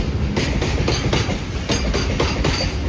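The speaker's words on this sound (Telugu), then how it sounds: "ట్రైన్ అయితే అవుతుంది ఇక్కడ." A train rolls past close by in the Araku Valley forest, with a steady rumble and a repeating clickety-clack of wheels over rail joints; no voices.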